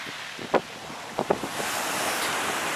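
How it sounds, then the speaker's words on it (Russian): Sea waves washing onto a winter beach at Sochi, a steady soft rushing surf with wind noise across the microphone and a few brief louder splashes early on, no talk. "Шум моря"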